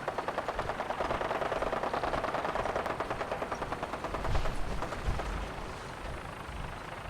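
Gunfire and a Vertibird aircraft in Fallout 4: steady rapid automatic fire under a continuous engine drone, with a louder thump midway and the rumble carrying on after.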